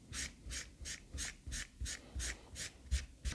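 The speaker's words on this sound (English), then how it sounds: "a lot of these marks, these surface marks, will come off just with the first pass with the rubber side of the brush" A suede boot is worked over with the rubber side of a brush in rhythmic back-and-forth strokes, about nine soft rasping swipes evenly spaced, close and moderately quiet with no talking.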